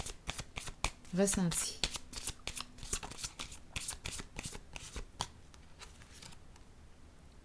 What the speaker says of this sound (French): Là, je vais piger une carte rose pour ici